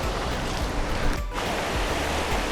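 Feet splash through shallow water on a deserted beach near Hyderabad, a dense continuous wash of splashing and surf with no talk.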